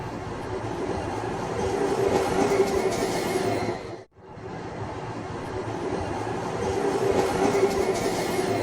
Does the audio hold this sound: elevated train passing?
yes